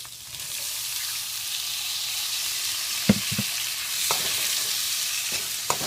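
Tomatoes for a chicken liver curry sizzle and fry steadily in a pan. A few sharp scraping knocks of a spoon stirring them stand out over the constant hiss, with no talking.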